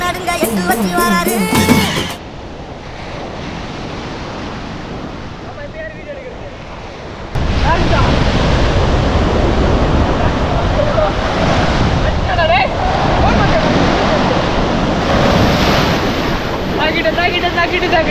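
Ocean surf rolling onto Pondicherry beach, a steady loud wash of breaking waves with heavy wind buffeting the microphone, briefly quieter in the middle before the roar returns; a few voices are faintly audible in places.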